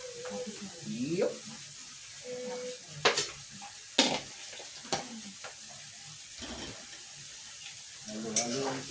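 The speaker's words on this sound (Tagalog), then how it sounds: "Halo-haloin po natin. Tapos, nahalo natin." Sugar mixture being stirred in a pan, with scraping and sizzling strokes, several sharper clinks against the pan, and speech in the background.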